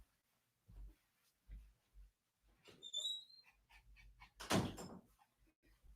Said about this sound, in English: Hold on, let me get the door.